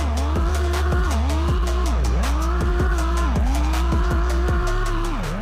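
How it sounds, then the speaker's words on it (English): Turbocharged drift car engine in a Roblox racing game, revving steadily with rising and falling pitch sweeps as it slides, tire squeal layered throughout, loud and continuous with no talk. "this thing sounds really good. Like, you can just hear the turbos"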